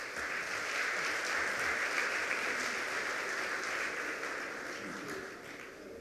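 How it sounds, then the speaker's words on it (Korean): Steady, fairly faint applause from a Korean ceremony audience welcoming the chairman of the Seoul Peace Prize Cultural Foundation, dense even clapping sustained throughout and tapering slightly at the end. "박수로 환영해 주시기 바랍니다"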